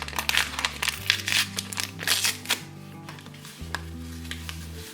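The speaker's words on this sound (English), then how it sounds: "I'm gonna just mix this all together until it's all incorporated" Cookie dough being mixed after vanilla and pudding mix are added, soft scraping and clinking of a utensil against a bowl, with a low mixer hum underneath and no talking.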